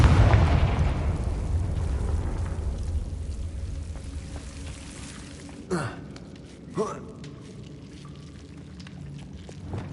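Two fire-spell explosions go off in a Harry Potter video game, each a short sharp burst about a second apart, over a dense rumbling game ambience.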